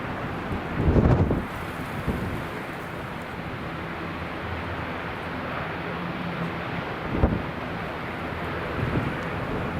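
Strong gusty wind at Newcastle Airport buffets the microphone with a steady broadband roar, swelling into a few louder gusts, with no clear voices.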